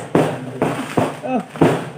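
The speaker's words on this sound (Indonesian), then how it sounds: "iki mercon iki nganti jam 4 esuk" Firecrackers set off late at night at a wayang kulit show, several sharp loud bangs at roughly half-second intervals, close and punchy, with a brief voice between them.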